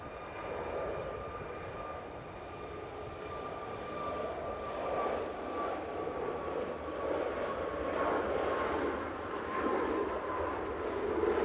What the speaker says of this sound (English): So, as you can tell, this is 737 MAX 8.